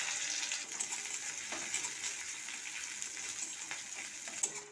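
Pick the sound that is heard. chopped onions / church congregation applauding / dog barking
chopped onions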